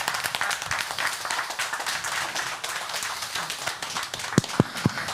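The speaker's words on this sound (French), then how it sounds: "encore des applaudissements pour Jean-Mad et Chantal qui nous ont accompagnés tout ce week-end sur le plateau du Téléthon" Audience clapping on a Téléthon television set; brisk, fairly close applause runs throughout at moderate volume, ending with a few sharp, separate thumps.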